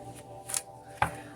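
Tarot cards being shuffled by hand during a reading, two soft riffling bursts close by, separated by a brief pause in a quiet room.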